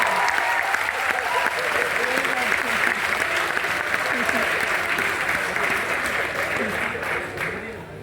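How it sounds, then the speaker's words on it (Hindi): An audience at an Indian political speech event claps steadily and loudly, a dense continuous wash of applause that tapers off at the end, with a voice talking over it. "अरे ताली जोर से बजाओ, अगर अच्छा लगाओ तो जोर से।"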